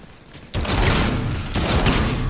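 Gunfire from the Call of Duty: Infinite Warfare zombies mode: a dense, loud burst of rapid shots that briefly drops off and then resumes, with no talking over it.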